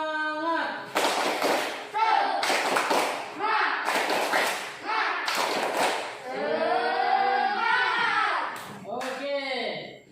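A school class does a rhythmic spirit clap, with bursts of group clapping arriving in regular beats. Children's voices chant loudly between and over the claps, and a voice rises near the end.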